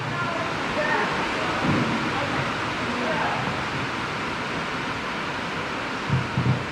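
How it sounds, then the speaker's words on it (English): Heavy rain pours steadily and loudly throughout an outdoor community association board meeting, a constant wash of noise with faint voices occasionally rising beneath it. "The rain's just getting too loud."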